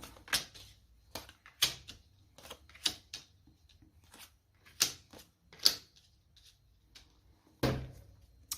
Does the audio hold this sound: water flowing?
no